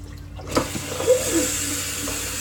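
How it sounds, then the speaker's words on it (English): Warm tap water rinsing a pan while making a Japanese jiggly cake, running water that starts abruptly after a quiet moment and continues as a steady splashing rush with a few clanks. "I'm gonna rinse this dude out real fast too."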